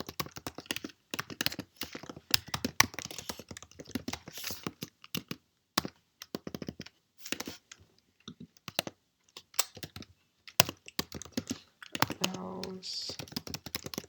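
Code is typed on a computer keyboard in rapid irregular clusters of crisp clicks, close up, with brief pauses between runs of keystrokes.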